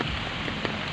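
Heavy typhoon rain pours down in a dense, continuous hiss with no break.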